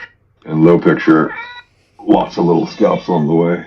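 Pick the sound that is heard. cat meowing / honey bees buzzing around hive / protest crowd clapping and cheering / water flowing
cat meowing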